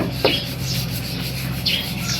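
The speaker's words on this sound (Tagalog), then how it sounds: "Kaya lilihahin." Steady abrasive rubbing of sandpaper against a surface, a continuous scratchy hiss with a few brighter strokes, close by and with no talking.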